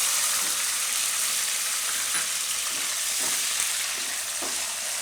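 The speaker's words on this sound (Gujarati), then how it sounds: "તો આમાં આપણે હવે ટમેટાં નાખી દઈએ." Fresh tomatoes tipped into green fenugreek leaves sizzling in hot oil in a pan, a steady loud frying hiss with faint stirring clinks throughout, no voices.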